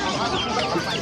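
Dense overlapping clucking from many chickens close by at an outdoor pet market, continuous and busy for a brief moment.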